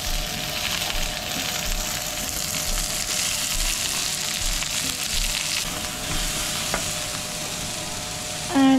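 Onions sizzle steadily in a pan as chicken adobo in coconut milk with papaya is cooked, a close, continuous crackling fry with a faint steady hum beneath it and no talking.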